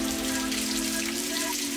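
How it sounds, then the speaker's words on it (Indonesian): Steady rain falls outdoors, a dense even hiss of drops on surfaces that stays constant and fairly close throughout, with no voices. "2-3 hari lepas tu asyik hujan je."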